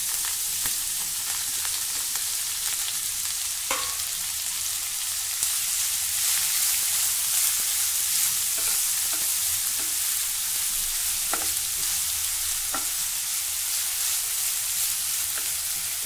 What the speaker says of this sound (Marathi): मिरच्या व्यवस्थित परतवून घेऊ. त्यानंतर यामध्ये हा बटाट्याचा किस घालायचा आहे.